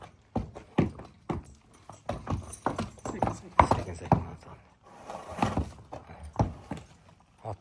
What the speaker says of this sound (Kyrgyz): Бул таза кыргыз жылкы Жалал-атка